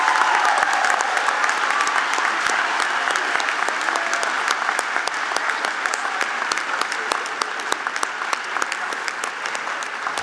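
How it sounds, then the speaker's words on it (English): An audience claps steadily at an academic honors banquet, a dense, even round of applause from a room full of people that holds for about ten seconds and tapers slightly at the end. "how about a round of applause and picture time?"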